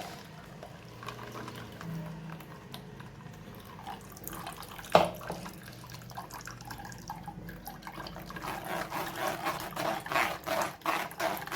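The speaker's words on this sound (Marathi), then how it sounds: "हा जो आपण ज्यूस केलेला आहे हा आता गाळून घेऊया" Blended watermelon juice with ice is strained, giving a steady trickle of liquid that grows fuller and splashier toward the end, with no talking.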